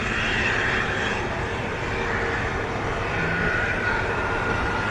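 A loud, steady aircraft engine roar drones continuously as the engine starts, a broad rumbling wash with a faint high whine over it, no voices.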